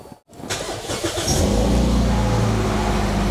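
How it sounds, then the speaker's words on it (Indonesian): A 2008 Toyota Yaris S Limited hatchback with automatic transmission starts up: a short crank, then the engine catches and settles into a loud, steady, close idle hum. "Saya akan nyalakan mesinnya."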